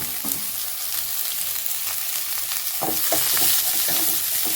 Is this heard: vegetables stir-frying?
yes